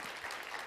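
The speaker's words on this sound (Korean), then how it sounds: "감사의 박수를 우리 같이 한번 드렸으면 좋겠습니다" A church congregation claps together in steady, dense applause, heard faintly and evenly throughout a brief moment.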